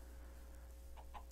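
A chicken clucks in a video game, three short clucks near the end rising over a steady low hum.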